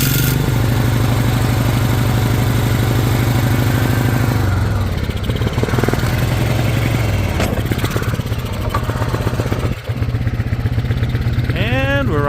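A 2010 Polaris 400 AWD ATV engine, said to need a carburetor, runs with a loud, close, steady chugging idle that roughens and shifts partway through as the engine note changes.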